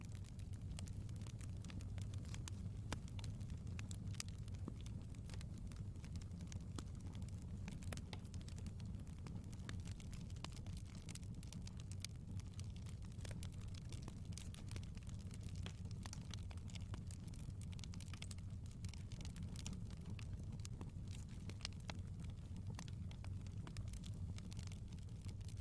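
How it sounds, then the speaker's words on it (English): Fireplace crackling from a live stream playing in a room, a steady dense bed of small pops and snaps over a low rumble that carries on without a break, with no talking. "Sounds like crackling. Yep, it's a fireplace."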